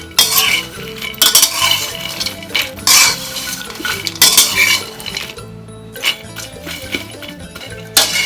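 Dry-roasting in a wok, with repeated loud metal scrapes and clinks of a spatula stirring against the pan in an irregular rhythm, close and busy throughout.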